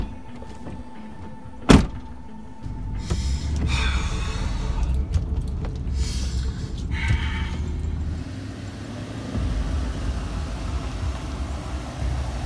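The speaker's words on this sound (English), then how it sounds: "I'm getting in the truck right now." Someone getting into a truck: a sharp door-handle click or slam, then rustling, shuffling and creaking movement inside the cab, with a low engine-like rumble running underneath.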